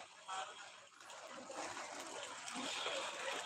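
Rainwater rushes and splashes steadily through pipes, a continuous hissing flow at moderate distance.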